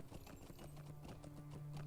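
Horse hooves galloping in the video game The Lord of the Rings Online, a steady, quick clip-clop rhythm throughout, fairly faint under a low steady hum.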